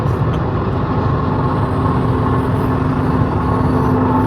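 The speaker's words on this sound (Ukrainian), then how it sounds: "І звучок такий хороший машини." A car drives along with a steady, loud road and engine rumble and a constant low hum, with no break or talk over it.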